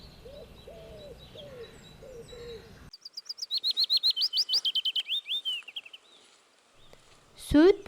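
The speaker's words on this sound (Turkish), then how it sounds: "Söğüt bülbüllerinin güzel ötüşleri arasında kuş gözlemi devam ediyor." Willow warbler song: a fast run of clear, high notes that slides gently downward in pitch, heard once, after softer, lower calls at the start and followed by a sharp, louder call at the end.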